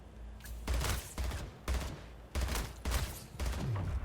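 Repeated bursts of gunfire in the arena shooter Splitgate, loud, close volleys in rapid clusters separated by short pauses, with no talking over them.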